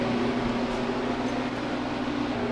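A home freeze dryer runs in its cooling mode, giving a loud, steady mechanical hum with a constant low drone and fan-like whoosh throughout.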